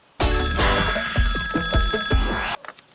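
A telephone rings with a bright electronic bell tone, repeated trills sounding loud and close for about two and a half seconds before stopping abruptly, with no talk over it.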